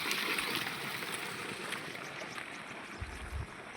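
Water pumped by a motor pours into a farm water tank, a faint steady rushing and splashing flow that continues evenly, with a couple of low thumps near the end.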